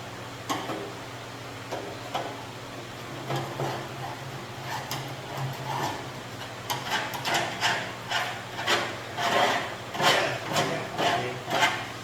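Scraping and digging inside an old, greasy smoker, a run of close metallic scrapes, taps and clanks that grow denser and louder toward the end, with no speech.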